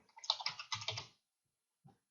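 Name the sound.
typing on a computer keyboard to rename an object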